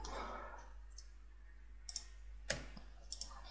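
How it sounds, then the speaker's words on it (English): A few sharp computer keyboard keystrokes, the Ctrl plus F shortcut being typed, come as isolated clicks scattered over a quiet background with a low steady hum. "press on your keyboard Ctrl plus F and enter var post null"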